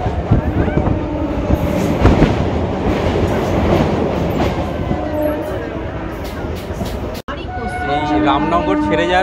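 Howrah to Digha local train running near Tikra and Ramnagar, rhythmic clickety-clack of wheels over rail joints and a loud steady rumble inside the carriage, broken by a brief sharp dropout before the clatter resumes with squealing overtones.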